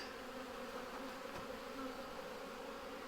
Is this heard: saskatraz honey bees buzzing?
yes